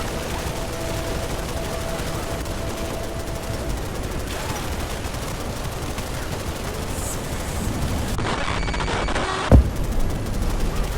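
Sustained rapid gunfire from Halo: Reach rattles steadily for several seconds as a dense, unbroken stream of shots, ending with a sharp louder crack near the close.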